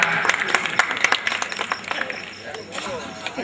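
An audience at a Hindi poetry gathering claps in a steady rhythm of distinct, fairly close handclaps that thin out toward the end, with some voices underneath.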